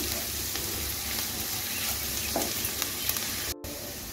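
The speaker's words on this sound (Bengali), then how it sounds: "দেখুন আমি পেঁয়াজ রসুন আর আদাটাকে আরও 2 মিনিট ভেজে নিয়েছি।" Onion, garlic and ginger fry steadily in a pan over low-to-medium gas, giving a continuous close sizzle with faint scraping stirs throughout, broken by a brief cut near the end.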